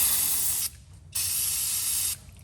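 Cleaner sprayed onto the petcocks of a 1923 Ford Model T engine, two long loud hissing bursts separated by a brief pause, close to the microphone.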